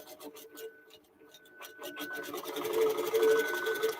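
A sewing machine quilts through a quilt, its needle chattering in a steady rapid rhythm that grows fuller and louder toward the end, with some light rubbing of fabric.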